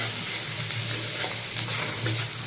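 Chopped onions sizzle steadily in a pan over medium heat and are stirred now and then, the frying hiss constant and moderately loud, with no one talking.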